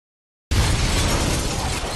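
A gas-filled factory blows apart in a film: after a brief silence, a sudden loud, roaring blast with shattering debris sustains for about a second and a half before cutting off.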